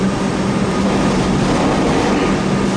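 A classic 1980s metro train, built by Coman, runs steadily with a continuous loud broadband rumble and low hum, heard from on board with no talking.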